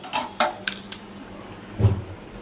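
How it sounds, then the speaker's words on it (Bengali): A metal kadai (wok) is set down on a gas stove, giving a few quick clanks and rattles close by, followed by a heavier metallic thud as it settles on the burner. "আর কড়াইটাও বসিয়ে দিয়েছি"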